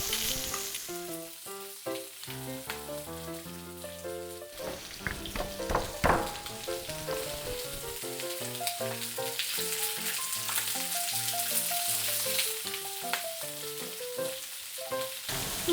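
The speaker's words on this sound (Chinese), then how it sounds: "可以先煎，然后再来炒。" Food frying in a pan before being stir-fried, a continuous crackling sizzle running throughout at moderate level, with clinks and stirring noises mixed in.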